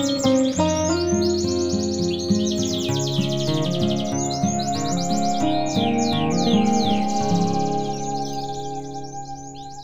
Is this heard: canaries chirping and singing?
yes